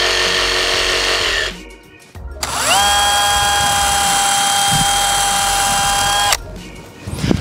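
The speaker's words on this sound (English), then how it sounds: "I've drilled two holes here." Power drill boring holes in a metal box lid: a loud close motor whine that cuts out, then spins up again to a sustained high-pitched drilling tone before stopping, with clatter at the end.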